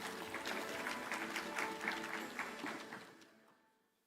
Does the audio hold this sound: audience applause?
yes